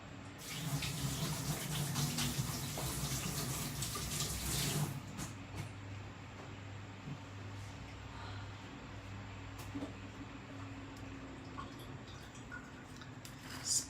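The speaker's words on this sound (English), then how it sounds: "I'm gonna wash my hands." Hands washed under a running kitchen tap while preparing fermented crabs, a steady close rush of water that thins out after a few seconds into a quieter trickle and faint drips.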